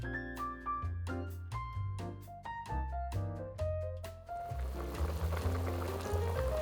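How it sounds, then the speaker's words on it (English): Water is poured into a pot of Vietnamese braised pork belly with eggs, a rising, gurgling fill that starts partway through beneath a plucked melodic tune that plays throughout. "Add the water, about 2 cups or 500 milliliters, to the pot, just enough to cover the meat again."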